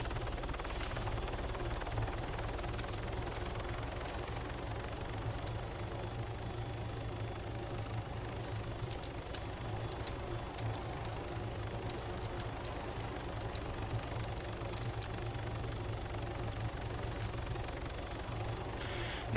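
A helicopter lands on a hospital in a video game, with a steady droning rotor and engine hum that stays even throughout, plus a few faint clicks.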